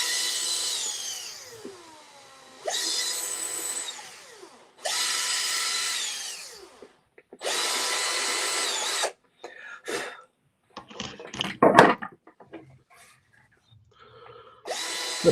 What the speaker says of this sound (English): So I've got to drill out all these freaking holes.